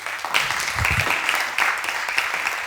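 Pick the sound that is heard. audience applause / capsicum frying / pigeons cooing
audience applause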